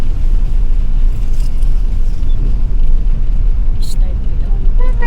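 A car rolls down a slippery slope with a continuous low rumbling engine and road noise, steady and close, while people talk nearby.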